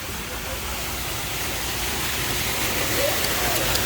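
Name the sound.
running water inside volcano cave at mini golf course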